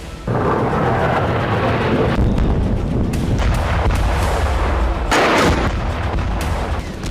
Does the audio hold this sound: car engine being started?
no